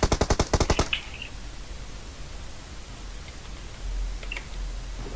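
A rapid burst of about eight gunshots fired at a vehicle tire in the mobile game PUBG Mobile. The shots come loud and evenly spaced in the first second, then give way to quiet ambience and a low rumble.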